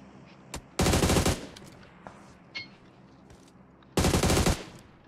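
Two loud bursts of automatic gunfire in PUBG Mobile squad play, one headshot among them, separated by a few sharp single shots and quiet gaps.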